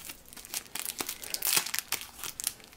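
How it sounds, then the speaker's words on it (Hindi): A plastic toy packet slit open with a pencil gives off quiet, crisp crinkling and small tearing sounds, steady and close with no talk. "ओपन कर लेता हूँ, पेंसिल की मदद से इसे कट कर लेता हूँ।"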